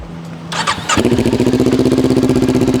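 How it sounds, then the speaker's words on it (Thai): 2018 Kawasaki Ninja 400 motorcycle engine cranks with a brief starter whirr, then fires and settles into a loud, close, steady pulsing idle. "ลองมาฟังโล เสียงเครื่องยนต์ดู"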